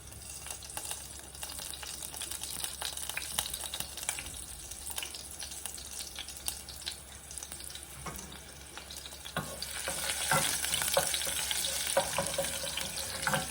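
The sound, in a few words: garlic and mustard frying in hot oil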